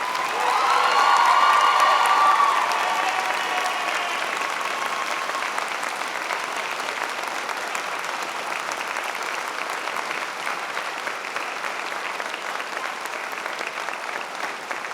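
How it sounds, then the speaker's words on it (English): Family, friends and staff applaud graduates at a spring university convocation ceremony, a broad steady wash of clapping with scattered cheers and whoops, loudest in the first seconds and then holding evenly. "A round of applause, please."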